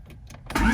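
A car engine cranks with a few faint starter pulses, then catches and roars into a loud, steady idle right at the end, close by.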